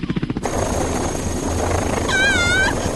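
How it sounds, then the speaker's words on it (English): Helicopter rotor noise thumps briefly, then holds as a steady loud drone with a rising whine over it, in an animated series scene. "A chopper?"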